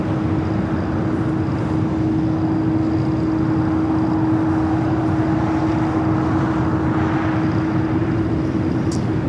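A United Boeing Dreamliner at Los Angeles airport, giving a steady, sustained jet engine roar with a constant droning tone held throughout, moderately loud and unbroken, with no talk.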